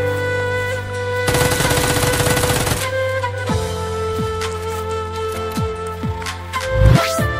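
Gunfire in a video game: a rapid sustained burst of shots followed by several separate single shots, loud over a steady musical background.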